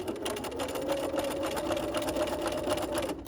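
A sewing machine stitches a dog leash forward and then in reverse, its needle ticking in a rapid, even rhythm at close range with a brief slowdown near the end.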